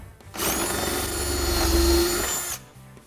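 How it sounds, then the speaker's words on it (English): A power drill spins up and runs loudly for about two seconds drilling shelf pin holes in a cabinet, its whine steady and close, then cuts off. "With that set, I'm ready to drill holes."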